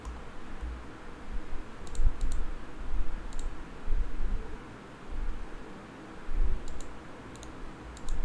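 Sparse sharp mouse clicks on a computer, single and double, over a steady low background hum, with no talking.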